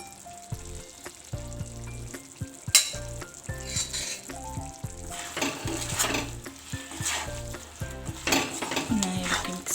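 Fish keema cooking in a pan on a low flame, with steady sizzling and bubbling under intermittent tonal kitchen or background sounds.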